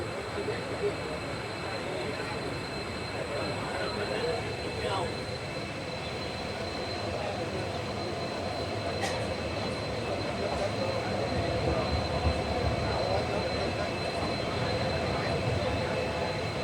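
A passenger train pulls into Dhasa junction station on the Bhavnagar–Jetalsar line. It gives a steady, broad rumble of rolling wagons at close range, with faint rail squeal and station bustle, and a voice speaks faintly over it.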